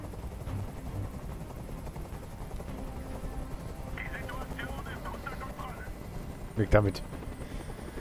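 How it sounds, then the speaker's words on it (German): A helicopter in the video game Detroit: Become Human drones steadily in the background with its rotor thrum, while someone speaks over it and a short sharp burst rings out near the end. "Dieser Helikopter soll verschwinden."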